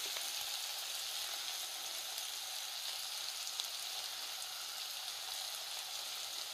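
Onion frying in a pan for onion soup, an even, steady hiss of sizzling oil close by, continuous and uninterrupted with no speech.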